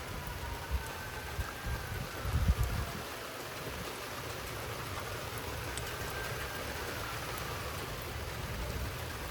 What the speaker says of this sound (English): Oh, the rain just died down a little bit.